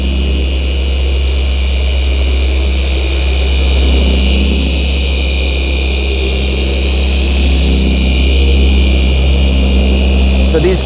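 Zentool 21E2 polishing machine running at speed 4 on a Mazda bonnet, a steady loud motor hum and whir held throughout under spoken commentary.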